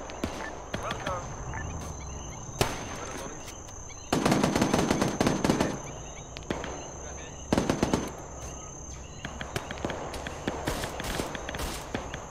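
SKS rifle shots in the video game Arma 3: sharp cracks and several rapid bursts of fire at irregular intervals, with footsteps and faint voices in between.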